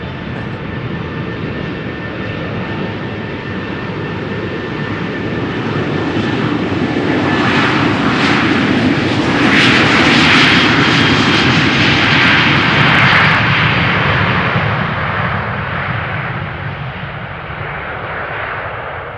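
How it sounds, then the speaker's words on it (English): An airliner takes off at full thrust from runway 36L at Amsterdam Schiphol. Its steady jet roar swells to a loud peak mid-way, then eases slightly as it continues, with no voices. "they just took their time before going full thrust"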